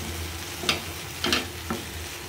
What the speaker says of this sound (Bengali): সুন্দর করে ভেজে নিচ্ছি।